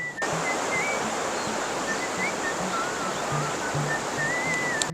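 Stream water rushing steadily beside a pine forest campsite, a continuous broad wash of flowing water heard close and loud on its own, with faint bird calls above it.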